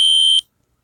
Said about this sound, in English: Fire alarm control panel does a pulse piezo, and this annunciator does a continuous piezo when it goes in the alarm